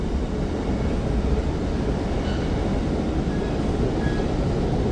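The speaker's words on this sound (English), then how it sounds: "I just passed the train I rode in on." Steady rolling rumble of a train running on rails nearby, a broad continuous roar with faint high tones drifting through, no voices.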